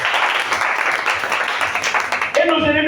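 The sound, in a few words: congregation applauding in church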